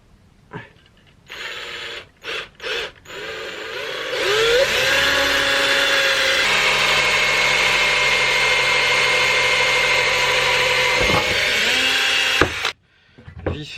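Power drill boring holes through a wooden guitar head template held with two screws, a few short bursts and then a steady, loud near whine lasting about eight seconds before stopping.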